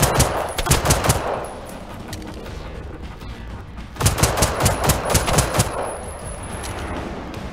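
Shooting in the video game Generation Zero, two loud bursts of rapid automatic gunfire close up, each lasting about a second, with no talking.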